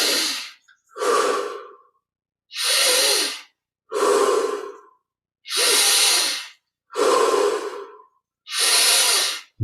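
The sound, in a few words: deep breathing during guided meditation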